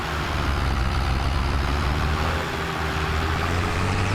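A tractor pulls a rattly trailer loaded with strawberries, its diesel engine giving a steady, loud, low drone that runs unbroken throughout, with no voices over it.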